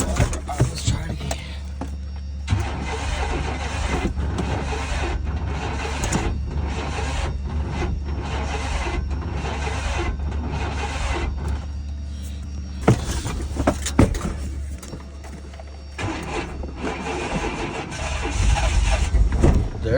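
A 1995 GMC/Chevy Blazer with a Vortec V6 and a timing problem, cranking over and over with a steady loud whir and drone, a couple of sharper surges, and a voice speaking now and then.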